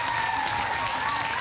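A seated audience applauds guests at the Kiddy Contest 2010 finale, a brief, even wash of clapping under a faint sustained tone in a large hall.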